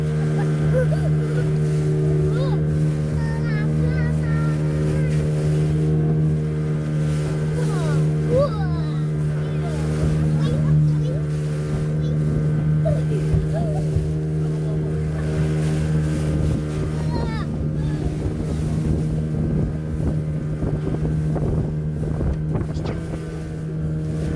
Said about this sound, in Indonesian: antara riak air dan mesin speedboat yang cukup kencang